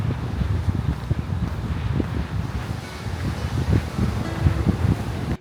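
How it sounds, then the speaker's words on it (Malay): Strong, steady wind roars and buffets without pause at Pak Meng Beach, Thailand, with a deep rushing wash of sea waves breaking underneath. "Ombak kuatnya, angin dan ombak kuatnya."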